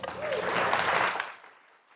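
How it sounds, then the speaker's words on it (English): An audience at a planning commission meeting claps in a short burst of applause, which swells and then fades out over about two seconds. "I'd ask that we please keep the clapping down."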